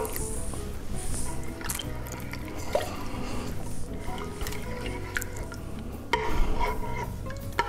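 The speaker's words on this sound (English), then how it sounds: "And then we're just going to stir the flour in." Flour being stirred into wet cinnamon roll dough in a bowl, a steady soft squishing and scraping churn with occasional knocks of the utensil, heard close up.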